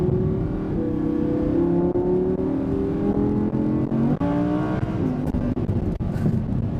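An Audi R8 V10 Plus accelerates on a race circuit, its V10 engine pulling up through the revs in a loud, close, sustained rising drone with a brief gearshift dip, no talking over it.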